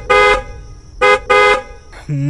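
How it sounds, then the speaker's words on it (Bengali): A car horn honks three times from a waiting motor car, a longer blast followed by two shorter ones in quick succession, loud and close, then an engine-like hum. "এই সময় মোটর থেকে তাগাদার হর্ন বেজে উঠল"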